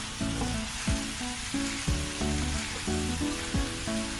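Cooked rice and Manchurian balls frying in a hot pan, a steady close sizzle broken by regular scraping stirs about every half second, with no talking.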